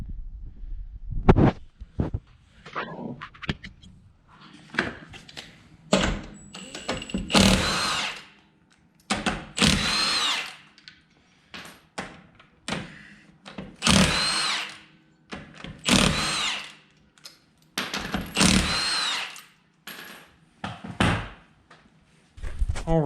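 A power impact tool spins off lug nuts, including a locking lug nut, to remove a tire during a roadside rescue: repeated loud bursts of whirring and rattling, each a second or two long, separated by short pauses.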